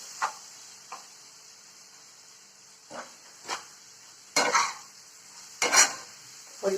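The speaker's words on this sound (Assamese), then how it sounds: "তাৰপাছত আপুনি সৰিয়হৰ গুড়াখিনি আন্দাজমতে যিমানখিনি জলকীয়া সিমানখিনি সৰিয়হ তাত দি লৰাই চাব।" Bhut Jolokia chilli pickle being stirred with mustard powder in a container, a spoon scraping and clinking in irregular bursts against a steady faint hiss.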